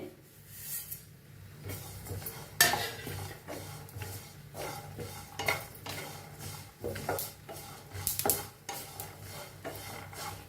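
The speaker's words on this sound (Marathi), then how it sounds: "आता शेंगदाणे चांगलं भाजायला आहे, त्याच्यातच खोबरं भाजून घेऊया।" Peanuts, dried coconut and sesame seeds are dry-roasted in a pan, producing continuous rasping scrapes and rubbing stirs of a spoon against metal, with occasional louder clinks in an irregular rhythm up close.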